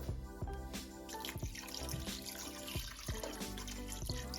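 Water is poured into a pan of chicken broth while making a white wine pasta sauce, a close, splashing and trickling stream with small clinks and drips, no talk over it.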